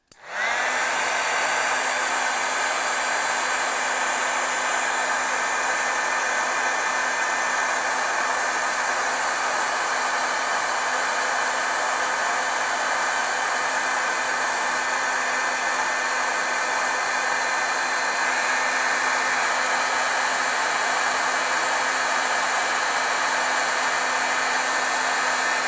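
A hair dryer blows steadily and loudly on a Claybord clay art tile for the whole stretch, a constant whooshing roar with a fixed motor hum and no pauses.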